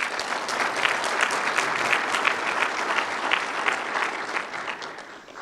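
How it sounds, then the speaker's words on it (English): An audience at an awards ceremony applauds steadily and evenly for several seconds, a dense wash of many hands clapping at once with no voices standing out. "Let's give them a hand of applause."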